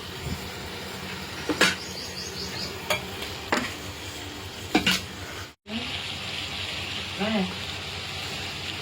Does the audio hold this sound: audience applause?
no